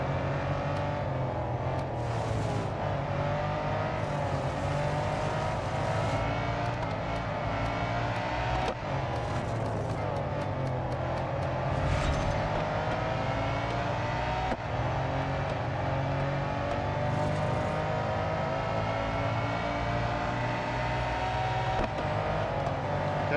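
Race cars in the Real Racing 3 Daytona Cup roar continuously with engine drone, gear-shift revs and whooshing passes, steady and loud for the whole stretch without speech.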